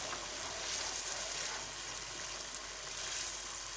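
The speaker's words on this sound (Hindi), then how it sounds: "अब मैं इसमें अदरक लहसुन 1 चम्मच ऐड किया है। तो मैं इसको अच्छे से भूनती हूँ 5 मिनट के लिए" Beef keema with ginger garlic paste frying in a pan, a continuous dense sizzle with crackling texture throughout, fairly quiet and close, with no talk.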